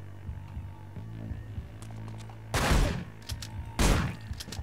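Two heavy shotgun blasts in the video game Manhunt, about a second apart, each a sharp loud boom with a short decaying tail over a low background hum.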